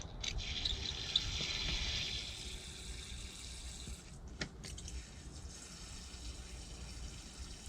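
Water pours into potted plants for a thorough soaking: a soft, continuous trickling splash with a few light drips and knocks, faint and steady throughout, with no talking.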